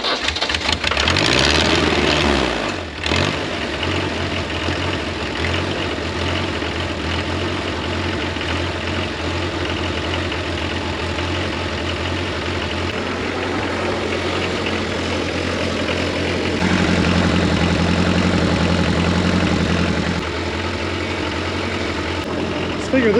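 A swapped-in Nissan diesel engine in an Oliver OC-3 crawler tractor cranks and catches, then settles into a steady, throbbing idle with a low mechanical drone that swells louder near the end, while someone talks over it.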